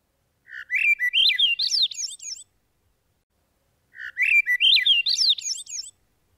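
Two clear, loud phrases of rising, fluting whistled notes, separated by a short silence, come from a Swainson's thrush on Vancouver Island, identified as a fledgling suffering from bird pox.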